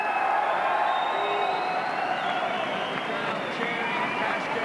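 A crowd at a Thai boxing match between England and Thailand applauds and cheers after a title fight, a steady wash of clapping and shouts with a commentator's voice over it.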